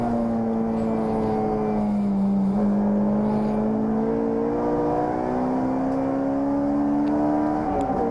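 Racing cars at Lydden Hill circuit hold a sustained, rising engine drone as they push on the throttle, steady and loud without pause.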